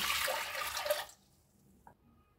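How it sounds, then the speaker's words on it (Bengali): Water pours into a pot of rinsed masoor dal, a loud, full splashing stream for about a second that cuts off abruptly, followed by near silence and a single faint drip. "পরিমাণ মতো পানি দিচ্ছি"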